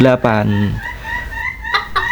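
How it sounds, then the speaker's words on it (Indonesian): Two kate (bantam) chickens cluck and call in a short loud burst at the start, followed by quieter scattered clucks, heard close with no talking. "hari ini kita akan memperkenalkan dua ayam KT kita, yaitu Dory dan Brogy."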